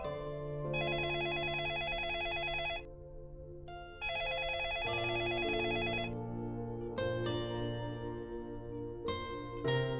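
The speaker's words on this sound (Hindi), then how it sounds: "अम्मा, फोन बज रहा है।" A telephone rings in repeated loud electronic bursts with short pauses between them, over a sustained musical background in a domestic drama scene.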